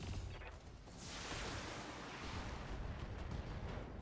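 BattleTech mech combat in a video game gives a dense, continuous rumble of weapons fire and explosions, faint and far off, with a broad roaring wash and no clear separate shots.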